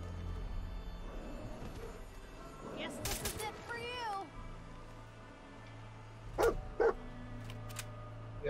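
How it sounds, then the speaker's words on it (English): A dog barks twice in quick succession inside a video game, clear short yelps rising over a low ambient rumble, with game sounds and a brief whistling tone earlier. "What you barking at?"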